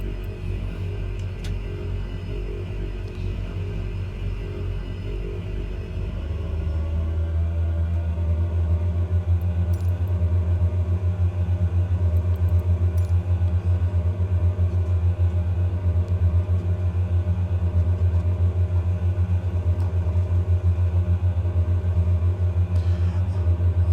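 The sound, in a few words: Embraer 110 engine rumble on takeoff roll, Microsoft Flight Simulator 2020 video game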